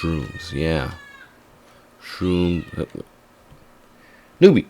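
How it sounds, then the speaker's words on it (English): A pet cat meows once, loud and close, after stretches of talking, a brief sharp call standing apart from the voices. "Sorry, that's my cat."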